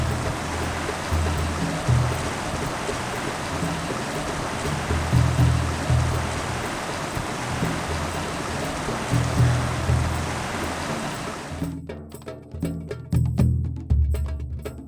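Water swirls and churns at the Mara River crossing, a continuous rushing flow with periodic low surges, loud and close, cutting briefly to a choppier texture near the end, with no speech.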